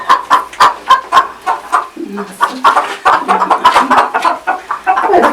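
Koşama-breed ornamental chickens cluck and chatter in a steady, busy stream, with overlapping calls from several birds close by.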